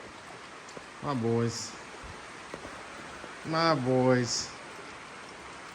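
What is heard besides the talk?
rain falling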